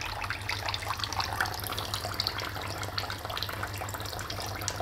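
Waste water runs steadily from an Ihlas home water purifier, a continuous close hiss of flowing water over a low hum, with no voices.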